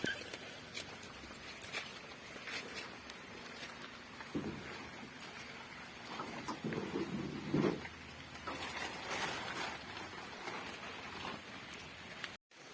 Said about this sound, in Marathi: पाऊस बारीक आसा पण मस्त थेंबे पडटा न्हू